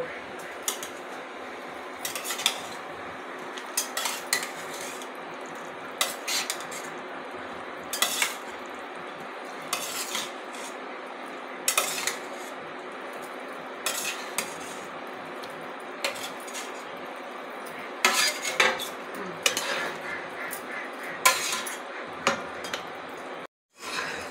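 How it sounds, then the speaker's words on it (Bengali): Eggplant pieces are added to boiling curry in a cooking pan and stirred, giving scattered clinks and scrapes of a utensil against the pan over a steady low simmer, with no talking. "ঝোলটা ফুটে গেছে, আমি এবার বেগুনগুলোকে দিয়ে দিব।"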